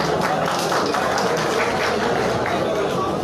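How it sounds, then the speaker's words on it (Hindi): Sustained, loud audience applause and crowd noise fill a pigeon club prize ceremony in Sargodha, a dense unbroken wash of clapping with chatter mixed in. "इनके लिए जरा भरपूर तालियां बजा दीजिए"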